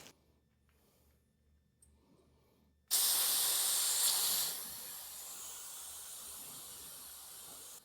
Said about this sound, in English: the first thing we're going to do is actually let the air out of this.